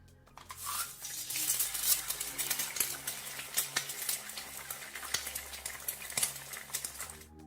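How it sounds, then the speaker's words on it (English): Crackling, popping sizzle like something frying in a hot pan, steady with sharp spits, no voices. "It's her eggs frying."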